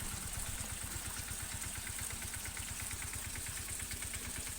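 A single-phase water pump motor runs steadily and loudly up close on a farm, with a fast, even low thumping and a constant hiss on top, no voices.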